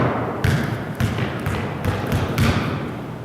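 Basketball thuds from a shot and bounces on a court, a series of several dull impacts spaced roughly half a second apart over a low background hum.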